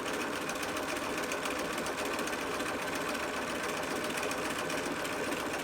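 A sewing machine stitches a seam on a fabric mask, a steady, even mechanical whir running continuously and fairly softly throughout.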